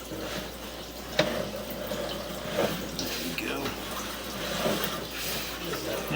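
Water flushing through a drain line during a house inspection, a steady rushing wash with a few small knocks and drips, moderately loud, while people talk quietly underneath.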